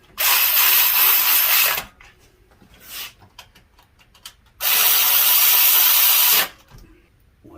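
A ratchet with a 10mm socket clicks rapidly on bolts during a water pump replacement on a 5.7 liter Toyota Tundra, in two long loud bursts separated by a pause with a few scattered clicks.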